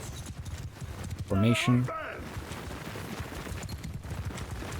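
Horses galloping in the Mount & Blade II: Bannerlord battlefield, a dense, continuous patter of hooves in the distance under battle noise, with one short spoken word partway through.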